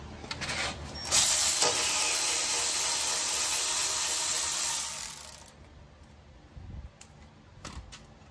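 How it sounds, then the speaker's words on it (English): Rapid mechanical ratcheting from a socket ratchet working a 12 mm bolt on the front brakes of a 2010 Toyota Sequoia, a loud steady whir for about four seconds, then a few faint clicks and knocks. "Okay, that's a 12 millimeter."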